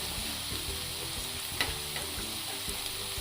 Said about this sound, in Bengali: এটা তেলে ভাজা ভাজা করে নিচ্ছি, কাঁচা আদা রসুন বন্ধ হবে।